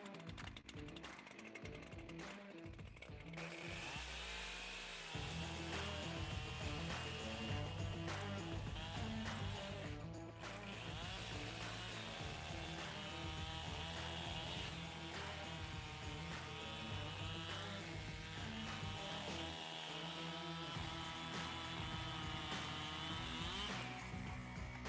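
An Echo CS-7310P chainsaw runs close by: a brief start, then a loud, steady high-revving engine drone with a few throttle changes.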